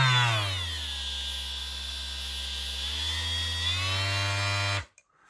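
Cordless battery-powered sander running steadily for nearly five seconds with a high whining motor tone that shifts slightly in pitch as the variable speed changes, then cuts off abruptly into quiet.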